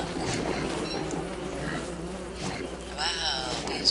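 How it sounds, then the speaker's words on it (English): Angry bees buzzing in the video game Don't Starve, a steady insect drone under background game sounds with a brighter buzzing swell near the end. "Wow, these bees are vicious."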